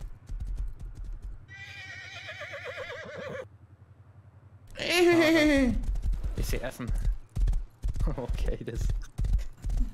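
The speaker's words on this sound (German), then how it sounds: "Ich glaube, er reitet gerade ein Pferd." In the video game Rust, rhythmic hoofbeats clop along, then a horse whinnies twice, loud and close, with a person talking briefly over the galloping.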